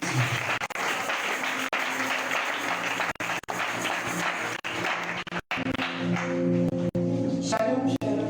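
Congregation applauding during a worship and praise service, a steady wash of clapping with continuous voices and music underneath, thinning toward the end as tonal sounds take over.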